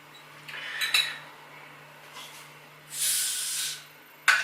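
A homebrewed Baltic porter beer bottle being opened, with a short hiss of escaping gas at mid-clip, preceded by faint clinks and followed by a sharp clink at the end; no talking.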